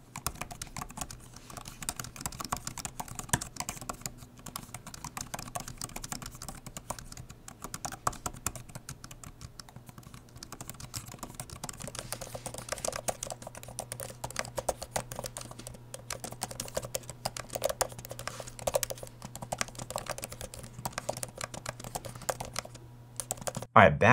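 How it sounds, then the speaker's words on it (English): Typing on an Apple Magic Keyboard and a Logitech Folio Touch, a steady run of soft close key clicks and taps under a constant low hum. "It was a little more clicky and less of a hollow thud like on the Magic Keyboard."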